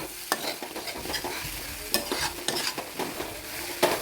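Tomatoes being stirred in a frying pan make quick scraping stir strokes over a soft sizzle, with sharp clinks of the utensil now and then. Nobody talks.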